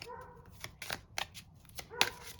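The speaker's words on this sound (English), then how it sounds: "that doggy outside is just barking so loudly" A dog barks outdoors in several short, sharp bursts, spaced unevenly and sounding fairly distant and quiet, with no talking over them.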